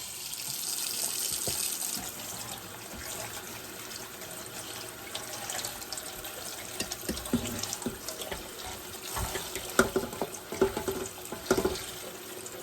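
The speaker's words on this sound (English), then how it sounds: "we're just going to come over to the sink under some cold water. And we're going to wash them." Cold tap water runs steadily into a kitchen sink while strawberries are washed beneath it. The stream gives a constant hiss, with splashes and knocks toward the end as the fruit is handled.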